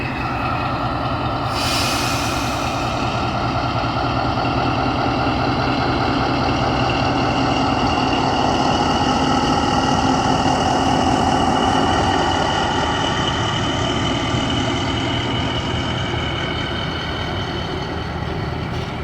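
The locomotive of the Allama Iqbal Express, a Pakistan Railways train, idles before departure with a loud, steady, close diesel rumble and drone. A brief sharp hiss sounds early, with no talk throughout.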